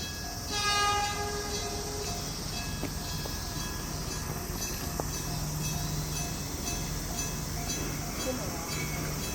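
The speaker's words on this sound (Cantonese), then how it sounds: "電車啊！" A tram in Tokyo rumbles past close by, with a steady rolling drone and a tonal hum, while people chat over it.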